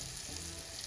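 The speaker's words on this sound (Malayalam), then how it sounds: "അപ്പം നല്ല രസത്തിൽ അതിങ്ങനെ പൊരിഞ്ഞ് വരുന്നുണ്ട്" Unniyappam batter sizzling and frying in hot oil, a steady close crackling hiss with no talk.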